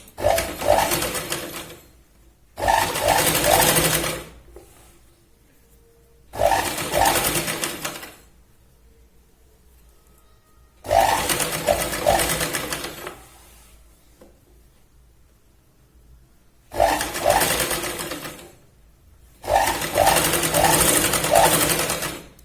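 A sewing machine runs double stitching along a sleeve set into a shoulder, in six bursts of loud, fast whirring, each about two seconds long, with near silence between them.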